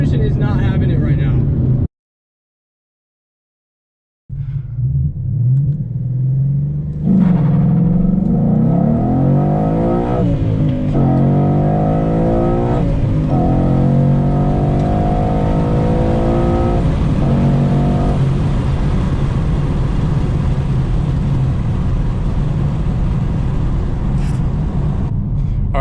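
A 2014 Ford Mustang GT V8 on SVE Series 3 wheels accelerating hard from a standstill, engine revving loudly through rising gear pulls with shifts, after a brief silent gap at the start; someone talks intermittently over it.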